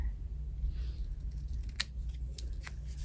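Small scissors make several crisp snips, cutting a paper card indoors; each cut is brief and fairly faint over a low background hum.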